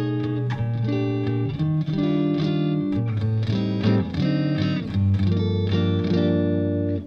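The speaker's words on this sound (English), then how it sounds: "If I roll the bass right up, should be able to get a nice, warm," An electric guitar played through a Vox AC4 C1 TV Limited Edition amp with the bass turned right up gives a warm, bassy tone, strummed chords and sustained notes ringing loud and steady with no talking.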